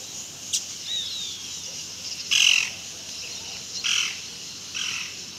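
Double-collared seedeaters call from a distance, giving a few short, bright chirps and calls spaced out over a steady background hiss.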